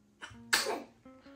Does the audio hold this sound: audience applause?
no